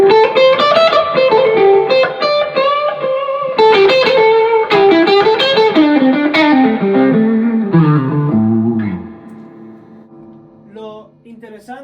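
An electric guitar plays a melodic line through a valve spring reverb into an overdriven amp, sustained distorted notes with a reverb tail that fades out at the end.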